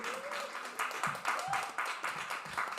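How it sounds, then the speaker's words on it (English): An open mic audience claps for a poet, a modest, uneven spatter of hands from a small crowd, with some voices and cheers mixed in. "Keep clapping for him."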